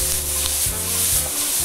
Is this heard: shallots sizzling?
yes